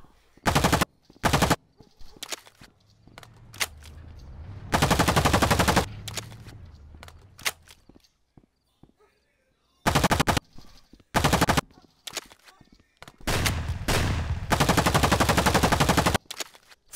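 Video game gunfire in Rec Room comes in several loud bursts of rapid automatic shots, separated by quiet gaps and a stretch of louder mixed noise, with longer sustained volleys near the end.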